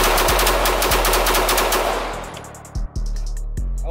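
Rapid automatic gunfire at an outdoor shooting range, a loud sustained burst of fast shots for about two seconds, followed by a few separate single shots with short pauses between them.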